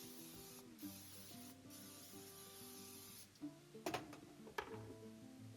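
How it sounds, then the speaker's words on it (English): A steady hiss of a spray bottle misting oil onto food for about three seconds, followed by a couple of short, sharper spritzes and faint handling noises. "give them another little spray, sprinkle some more salt on them"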